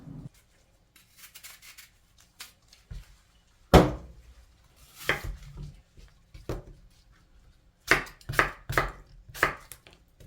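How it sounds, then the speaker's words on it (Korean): A knife slicing a washed apple in half on a cutting board for dongchimi, with sharp, irregular chopping taps, one heavier thunk early on and a quick cluster of cuts near the end, close and clear. "깨끗하게 씻어뒀던 사과를 반쪽만 썰어서 넣을게요"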